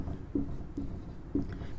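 During a biology lecture, chalk or a marker writes on a board in three short, quiet taps and strokes spaced roughly half a second apart, faint against a low room background.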